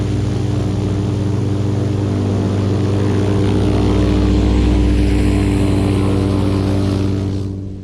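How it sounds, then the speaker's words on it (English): Searey light amphibious aircraft passing overhead, a loud, steady propeller-engine drone that builds, holds for several seconds, then fades away. "Are you going to watch Dad's plane go flying?"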